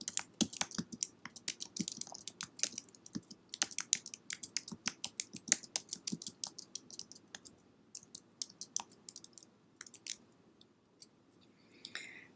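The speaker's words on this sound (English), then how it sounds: "let's go ahead and type it in" Typing on a computer keyboard, close and crisp rapid clicking keystrokes in uneven bursts, thinning out toward the end.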